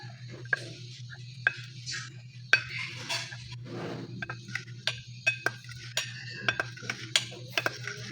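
A knife slices through set gelatin for a mango sago dessert, giving soft light taps and clinks of blade against board and dish, spaced irregularly, with a low steady hum underneath.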